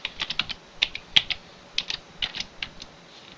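Computer keyboard typing: irregular bursts of crisp key clicks, close and clear, with short pauses between groups of strokes.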